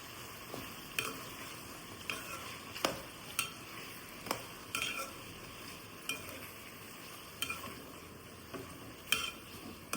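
Ginger fries in a pan on a stove over a medium-to-low flame, a soft steady sizzle broken by repeated scraping clicks of a spoon stirring, close and fairly quiet with no talking.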